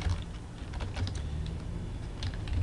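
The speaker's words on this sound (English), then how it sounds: "you can type out what you want here" Steady, quick tapping of keys on a computer keyboard at an office workstation, close and moderately quiet over a constant background hiss, with no speech.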